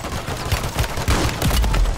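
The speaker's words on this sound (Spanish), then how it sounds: "te pegué dos tiros" Gunfire in a shooting video game, a rapid string of sharp, loud shots in short bursts over a dense, noisy background, with no speech.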